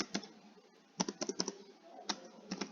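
Quick bursts of keystrokes on a computer keyboard while entering an Excel formula, clustered clicks with short pauses between, close and fairly quiet.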